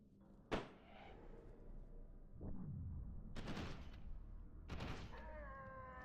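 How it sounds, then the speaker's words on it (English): Gunshots in the video game F.E.A.R. 2, several sharp cracks spaced a second or two apart over a low game ambience, faint overall and with no talk. "that was a lot of bullets that I just put in your cranial cavity"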